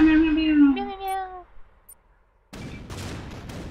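Cartoonish cat meows from the tank game Shellshock Live, a short run of descending mewing cries, then a pause before a burst of rapid gunfire-like blasts.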